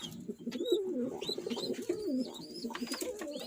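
Pigeons coo in a low, throaty, rolling murmur that repeats steadily up close, a male homing pigeon beside his chicks in a loft, with a few thin higher chirps laid over the warbling.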